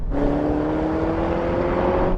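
An Audi RS6, BMW M5, Mercedes-AMG E63 and Porsche Panamera accelerate hard off the line in a drag race, giving a loud, close, continuous engine drone with a steady rising whine.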